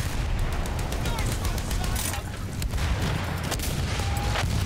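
Dense Battlefield 1 gunfire and explosions roar continuously, with rapid overlapping shots and heavy booms at close range, and a player's voice is faintly mixed in.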